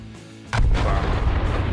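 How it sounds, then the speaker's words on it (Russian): A bomb in the video game Garry's Mod goes off after a quiet stretch: a sudden, loud, close boom followed by a heavy, rumbling roar that keeps sounding to the end. "Классный, да, звук? Каждая бомба по-разному взрывается."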